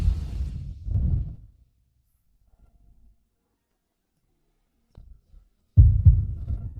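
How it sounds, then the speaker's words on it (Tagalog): A fast heartbeat sound effect throbs in low, heavy pulses, a pair of thumps at the start, then a pause of near silence, and the thumping returning strongly at the end. "Ang bilis ng tibok ng puso!"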